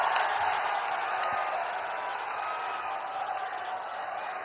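An audience at a public event in Azamgarh, where the Prime Minister is inaugurating development projects, gives steady, sustained applause that fills the hall evenly without pause.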